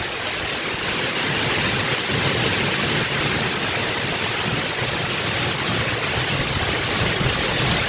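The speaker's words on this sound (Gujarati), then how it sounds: "વરસાદ આવે છે ભાઈ અત્યારે આપણે જોરદાર ગાંડો છે" Heavy rain pours down in a steady, dense roar that fills the whole stretch, loud and close, with no break and no voices.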